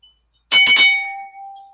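An old bell is struck, giving a bright metallic clang followed by a couple of quick repeated strikes that ring out and decay slowly into a sustained hum, loud and close with no talk.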